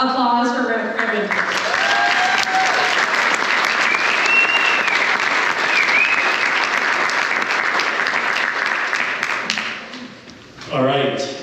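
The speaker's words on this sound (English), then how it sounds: "So a big round of applause for Brendan." An awards gala crowd for the Volleyball BC Hall of Fame gives Brendan sustained loud applause that holds for about ten seconds before fading, followed by a brief burst of voices.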